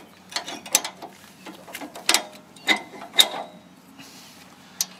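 A caravan handbrake is pulled on, its ratchet giving a series of sharp, close clicks in uneven bursts with short pauses between, loud against a quiet background.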